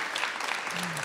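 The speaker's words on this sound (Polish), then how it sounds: "Andrzej Leder, gorące brawa." Theatre audience applauding after an evening discussion event, a dense wash of clapping hands throughout a short burst, fairly loud and continuous.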